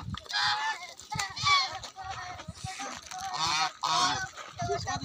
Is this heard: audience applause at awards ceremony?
no